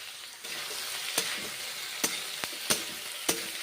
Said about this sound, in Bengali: কষে নিচ্ছি এখন হলুদ লবণ দিয়েছি কষে নিচ্ছি পাঁচ মেশালি সবজি